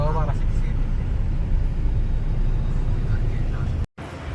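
A car engine humming steadily as it drives away, a continuous low drone heard from inside or near the vehicle, with a brief voice at the start and a short dropout near the end.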